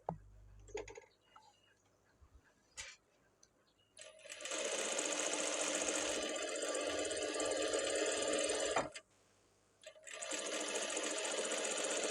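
A sewing machine stitches a blouse in two steady, fast whirring runs separated by a short pause. The motor hum is clear and close after some quiet clicks and handling noises.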